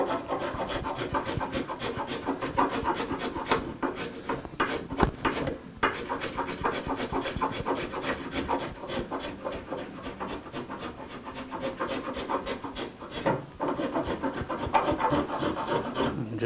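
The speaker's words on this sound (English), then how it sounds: "Just more spoke shaving." A spokeshave shaves and shapes the foot of a wooden table in a workshop, producing continuous rasping strokes that repeat in a steady, close, fairly loud rhythm with no talking.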